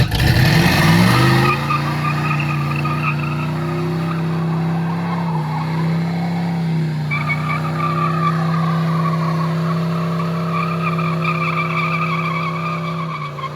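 A 1985 Oldsmobile Cutlass with a 4.11 posi rear end does a burnout: the engine revs up hard, then holds a loud sustained roar while the tires squeal continuously throughout.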